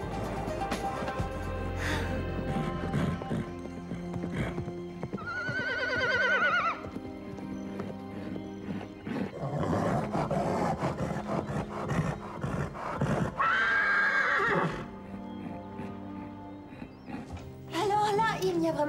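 A horse whinnies twice loudly, with rising and falling high-pitched calls, amid animated cartoon dialogue, music and stable noise.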